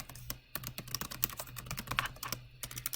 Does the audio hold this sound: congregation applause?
no